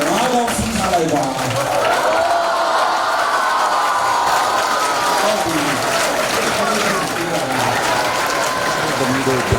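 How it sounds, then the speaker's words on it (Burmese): Sustained audience applause at a school ceremony, dense steady clapping from many hands held at an even loud level throughout, with crowd murmur and voices mixed underneath. "လက်ခုပ်ပြီးလိုက်ပါ"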